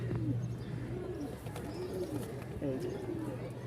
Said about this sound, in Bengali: মাশাআল্লাহ একদম সেম টু সেম এক জোড়া কবুতর আছে